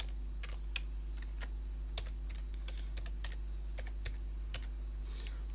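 Password being typed on a computer keyboard during a Kali Linux terminal session: a quiet run of about a dozen separate key clicks at an uneven pace, with no voice.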